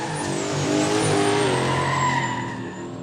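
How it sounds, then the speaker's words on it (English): At a quick street event a car drifts past with a high, wavering tire squeal over a loud revving engine roar, rising and then fading over about three seconds. "These boys no strangers to a little bit of drifting."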